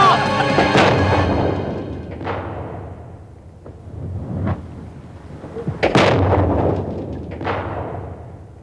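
Heavy booming thuds from a drama sound effect of bombs exploding, several loud blasts rolling out one after another with rumbling low tails, no talk over them.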